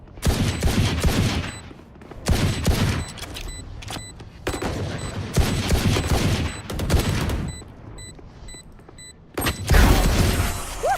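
Rapid bursts of gunfire in a Valorant match, several loud volleys of automatic shots separated by short pauses, with sharp mechanical clicks and ringing tones, close and dominant.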